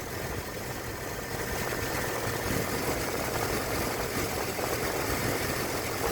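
A 1999–2006 Chevy/GMC pickup engine idles with its converted cooling fan running, giving a steady, even rumble and a broad whooshing hiss that hold at constant level throughout.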